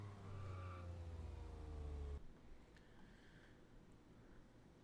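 Car engine in the Auto Legends racing game revs hard with nitrous engaged, a loud rising roar that cuts off abruptly after about two seconds, leaving quieter background noise with faint bursts.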